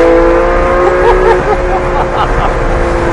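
A loud, steady engine drone with a sustained whine from a Porsche 911 GT3 running hard on a race track, heard from inside or close by.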